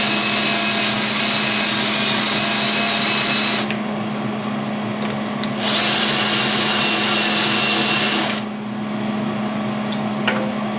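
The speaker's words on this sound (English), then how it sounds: "I gotta countersink the holes in." A power drill countersinks holes in a metal shelf and way cover for a Novakon Torus Pro CNC machine, whining loudly and steadily in two long runs with a quieter hum between them.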